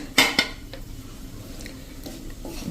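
Boondi crumble is roasted in ghee over medium flame, with two sharp clinks of a utensil against the pan followed by softer scraping and stirring, close and with no talking.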